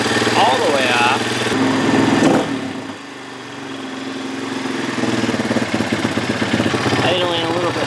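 A Honda CRF230 motorcycle, running rich and lean, idles steadily on half choke at a slightly high, even pace, close and fairly loud throughout, with a brief dip partway through and a voice talking over it at times.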